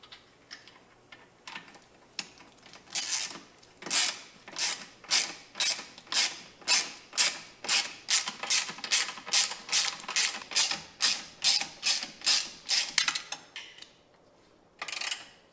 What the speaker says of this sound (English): I'm going to go ahead and tighten up these transmission mounts.